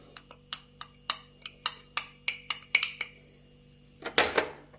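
A metal spoon clinks repeatedly against a bowl while spices are stirred into raita, a rapid series of sharp, bright taps followed by a louder scraping clatter near the end.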